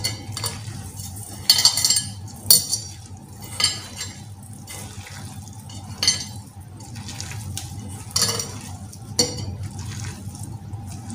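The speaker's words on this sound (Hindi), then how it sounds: "अब इन सारी चीज़ों को एक साथ अच्छी तरह मिक्स करूँगी मैं" Seekh kebab mixture being mixed with egg in a bowl, with intermittent clinks and scrapes of utensils against the dish over faint wet squelching and a low background hum.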